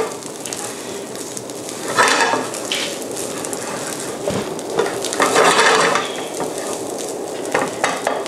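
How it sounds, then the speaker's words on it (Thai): Salt and green curry paste stir-fried in a hot pan for a fish green curry fried rice: steady close sizzling and frying with scraping stir strokes of a utensil against the pan, swelling louder in bursts, no talking. "คราวนี้ผมลงเกลือเปาะที่เปื้อนพริกแกงของเราเมื่อกี้เอาลงมาผัดต่อ"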